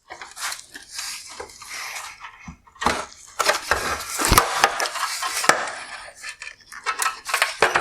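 A 2016-2020 Tesla Model X LED headlight part is worked loose from its two wire clips, producing close, uneven plastic clicks, knocks and rattles in bursts with short pauses.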